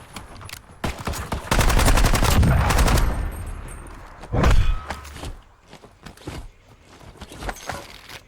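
Gunfire in Call of Duty Warzone: a dense automatic burst of shots, then a second loud volley, followed by scattered single shots and thuds fading into quieter footsteps.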